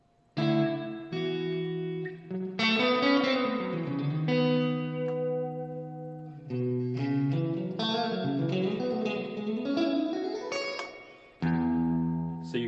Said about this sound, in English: If you were looking for an incredibly drippy reverb